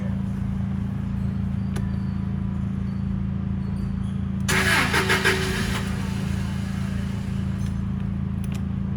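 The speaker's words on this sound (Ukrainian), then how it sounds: "Давайте заведу, покажу, як працює даний навантажувач." A 2019 Toyota 32-8FG18 warehouse forklift engine cranks and catches on a cool day, a brief loud burst of starter and firing over a steady low idle-like hum, fairly close.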